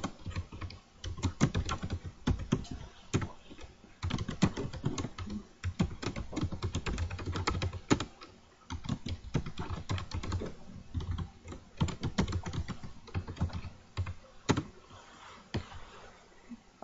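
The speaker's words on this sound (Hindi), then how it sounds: "टाइपिंग इसलिए स्लो हो रही है क्योंकि मैं लैपटॉप पे कर रहा हूँ" Keys on a laptop's built-in keyboard clatter in a steady, irregular stream of quiet, close taps with brief pauses, continuing for several seconds without speech.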